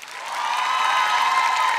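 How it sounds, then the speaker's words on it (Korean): Audience applause swelling at the 2018 KBS Radio Drama Awards ceremony as a best acting award is announced, rising quickly from soft to a steady, even wash of clapping. "박수 부탁드립니다"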